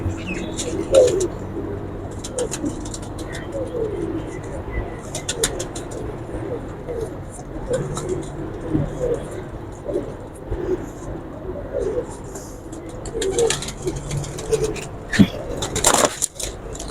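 Pigeons coo repeatedly on a rooftop loft, a steady overlapping murmur of soft throaty calls with occasional wing flutters and handling noises close by, under faint background voices.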